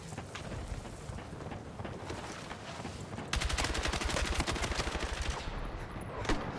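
M277 rifle firing in the shooter game Battlefield 6, a rapid, steady automatic burst of loud, close shots kicking in partway through after a windy, scattered battlefield backdrop with distant gunfire.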